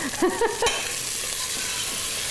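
Garlic and vegetables brown in a pressure cooker with a steady, even sizzle. A few brief clinks or tonal blips come at the start, then the sizzle continues alone.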